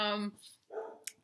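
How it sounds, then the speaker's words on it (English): A pet dog gives a couple of short barks indoors, heard right after a person stops talking; the barks are moderately loud and brief, with quiet pauses between them. "I'm sorry if you hear my dog barking."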